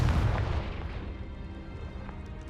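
In the video game Hogwarts Legacy, a Confringo fire spell sets off a deep, booming explosion heard near, with a rumbling tail that fades over a couple of seconds.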